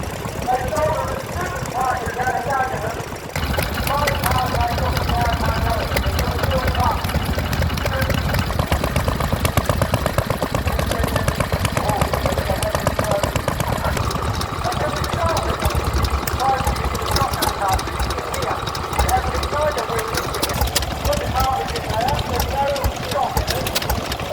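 A vintage engine with a belt pulley and hand-crank start runs at a classic vehicle rally in Boxford, Suffolk, giving a steady chugging idle with a rhythmic knock under nearly continuous talk and outdoor crowd noise.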